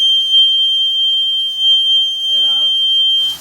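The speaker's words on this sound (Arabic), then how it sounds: "جرس الانذار ضرب" A shrill electronic alarm tone sounds steadily and loudly, with a brief murmur of a voice near the end.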